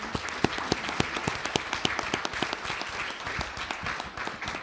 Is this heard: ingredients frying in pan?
no